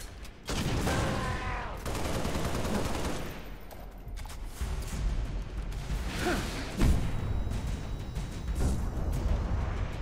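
Gunfire in the video game Halo: Master Chief Collection: rapid bursts of automatic shots and heavier impacts fill the stretch, loud and continuous with brief pauses and a few sharp hits, no speech over it.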